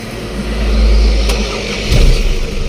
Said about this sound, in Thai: ฟังเสียงเครื่องยนต์กันหน่อยนะครับ